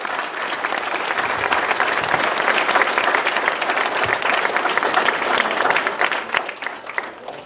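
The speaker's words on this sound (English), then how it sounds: "Give the Lord a hand clap of praise for all who can come to the altar" A church congregation gives a hand clap of praise, a dense, loud wave of applause that holds steady for several seconds before tapering off.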